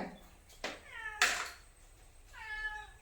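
A cat meows several times, the calls spaced out across the clip, fairly close and clear, with a short sharp knock-like noise between them.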